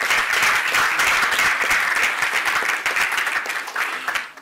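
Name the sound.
audience applause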